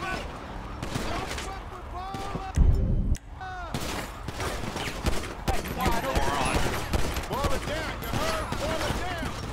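Police-game shootout with rapid bursts of gunfire crackling continuously at close range, one heavy blast standing out, while a player shouts excitedly over the shooting.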